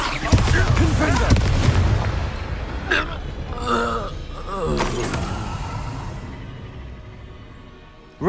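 Confringo blasting spells cast in Hogwarts Legacy on PS5, several booming fiery bursts in quick succession, loudest early and fading later, mixed with game sound effects.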